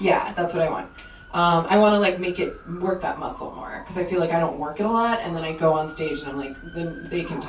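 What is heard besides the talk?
No everyday noise stands out behind the speech.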